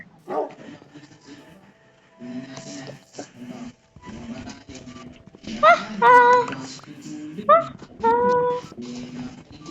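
A dog in a Minecraft game yips and whimpers in short, high bursts amid scattered clicks and faint voices, with a few louder sharp barks near the end.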